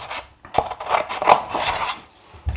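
Scissors snip through coloured paper, cutting out lollipop puppet pieces in a run of close, crisp cuts and rustles with short pauses between them, no talking.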